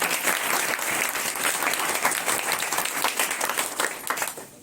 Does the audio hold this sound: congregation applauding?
yes